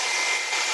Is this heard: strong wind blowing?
no